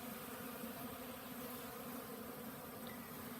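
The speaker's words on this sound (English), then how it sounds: "You can hear them. I love that sound, that buzzing." Honey bees buzz steadily as they feed during an outdoor honey extraction, a dense continuous hum from many insects close by with no talking.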